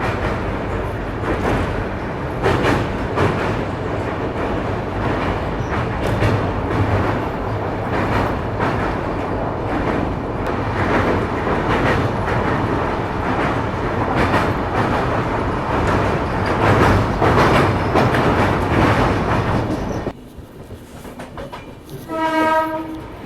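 The Ajmer Mysuru express train runs fast across the Tapi river bridge with a loud, steady rumble and rhythmic wheel clatter, then the sound drops away and a sustained train horn blows near the end.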